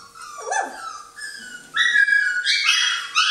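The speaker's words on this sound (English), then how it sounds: "Look at this dog." Norwegian Elkhound dogs give close, high whimpers and yips that rise into a run of excited whining barks, with no voices over them.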